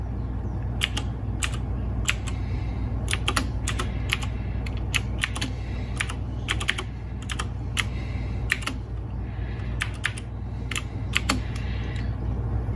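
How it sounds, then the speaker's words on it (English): Keys clack in quick irregular bursts as a password is typed on a keyboard while installing an iPhone app, over a steady low hum, with no talk. "so I do have to type in the password."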